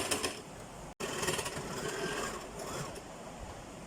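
Sewing machine stitching cloth for a convocation cap, a continuous close mechanical whirr that runs steadily, with one very short break near the start and no talk.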